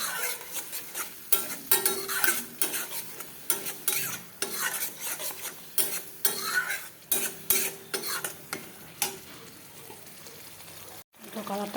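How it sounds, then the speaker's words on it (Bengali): Spices with turmeric, salt and chili sautéing in oil sizzle under repeated, rhythmic spatula scrapes and clinks against the pan, close and fairly loud, ending with a brief pause. "এখন কষতে থাকুক, সুন্দর করে কষবে এটা।"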